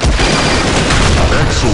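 A grenade goes off during a video game firefight as a loud, dense roar of explosive booms and gunfire that stays close and continuous throughout.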